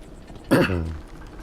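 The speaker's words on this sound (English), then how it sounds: "I keep trying to clear my throat." A single short throat clear, close and moderately loud, with a raspy rough burst followed by a brief voiced tail, otherwise quiet.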